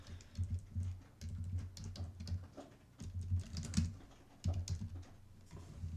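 Keys clatter on a computer keyboard close by in quick bursts of typing, separated by short pauses, with no voices.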